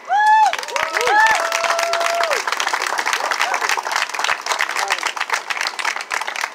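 A public meeting audience applauds an introduced speaker; steady, dense clapping fills the room for several seconds, with a brief whistle or shout near the start and the applause continuing evenly throughout.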